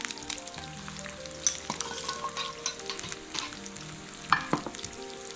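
Eggs frying in a pan for a breakfast sandwich, a quiet steady sizzle with small pops and crackles, close up and without talk.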